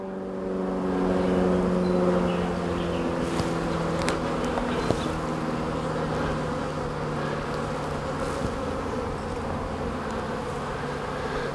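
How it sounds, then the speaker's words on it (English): Robber bees swarm around a beehive comb, a dense, continuous buzzing hum with steady intensity and a few faint clicks and knocks scattered through it. "So those are robber bees."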